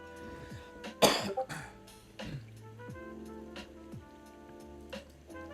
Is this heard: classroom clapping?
no